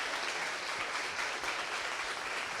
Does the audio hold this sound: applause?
yes